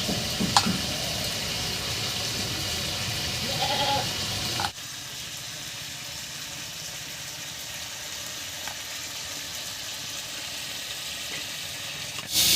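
Raw papaya and potato fry in a pan with a steady, moderate sizzle that drops to a quieter hiss partway through, with a brief clatter at the end.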